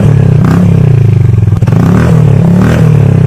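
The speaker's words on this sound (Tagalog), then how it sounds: "Ganito nga pala ang tunog niya kapag ikinabit sa automatic na motor." An automatic motorcycle fitted with a 51mm Akrapovic-style universal muffler idles loudly up close, its deep, bassy exhaust rumbling steadily with a throaty, pulsing tone.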